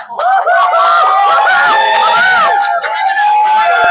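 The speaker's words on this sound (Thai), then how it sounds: "ผมขอเสียงปรบมือให้บายหน่อยได้ไหมครับ" A crowd at a special Thai-dub screening of Demon Slayer: Infinity Castle in IMAX cheers and shouts for the director, many voices whooping and calling out together, loud and close, with steady excited noise throughout.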